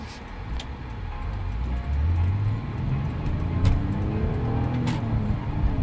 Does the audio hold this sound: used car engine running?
yes